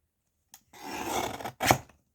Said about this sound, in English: just going to trim it with the guillotine